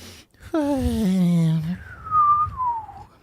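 A voice imitates a soft whistling breath, a rising-falling nasal tone followed by a thinner high whistle that slowly slides down.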